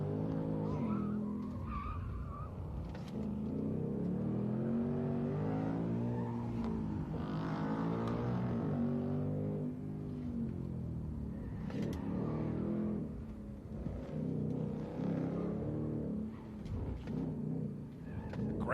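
Race car at a Heritage Invitational celebrity pro-am event at Ten Tenths Motor Club, engine revving and surging as it brakes and accelerates through corners, with tire squeal, steady and fairly loud.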